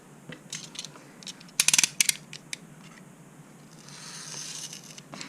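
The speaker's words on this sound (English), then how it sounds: "I'm going to do this with my knife just to make it a bit quicker" Quick knife strokes slice through paper while a gift bag is being cut out, a brief cluster of sharp crisp scrapes and ticks near the middle, then a softer sustained rustle toward the end, close and quiet.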